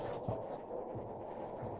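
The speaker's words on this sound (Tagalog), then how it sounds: "ang lakas ng aircon kasi need nila talaga na malakas yung aircon" A strongly running air conditioner in a flower shop gives a steady, loud low hum with faint throbbing pulses, filling the space with no voices.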